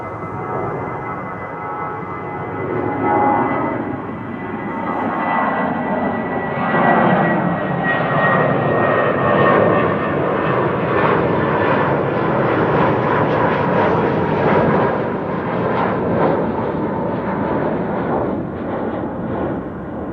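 A British Airways passenger jet roars past at Amsterdam Schiphol Airport, its loud, broad engine rumble swelling and holding steadily for about twenty seconds with no voices over it.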